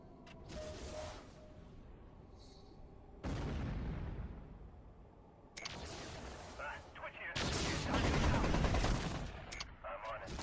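Turrets in the MechCommander 2 video game blasting away in a night battle: dense, loud bursts of rapid gunfire and booming impacts come in several waves, with a busy rattle of shots between the heavier volleys.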